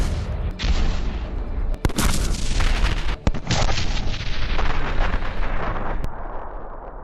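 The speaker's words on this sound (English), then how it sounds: "A few shots from a high-precision gun can quickly eliminate the target and escape." Heavy cannon fire from an Abrams tank in the war in Ukraine: loud, booming blasts with long rumbling decay and sharp cracks layered over a constant roar of battlefield noise.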